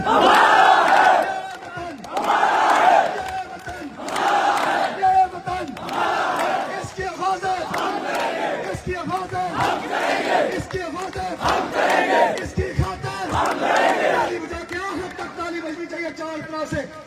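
A protest crowd in Kashmir chants slogans in loud, rhythmic call-and-response waves, voices rising together in repeated bursts with a leader's shouts between them, with clapping hard to pick out.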